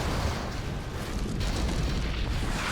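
Heavy missile-strike blast from a Scud Storm superweapon in a snowy real-time strategy battle, a dense rumbling roar of explosions sustained throughout at steady loudness, no voices.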